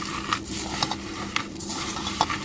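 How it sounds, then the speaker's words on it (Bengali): Ripe bael fruit pulp squished and kneaded by hand for homemade ice cream, giving soft wet squelches with a few sharper squishes spread across a steady, close background. "ভালো করে হাতের সাহায্যে আমি চটকে নেব"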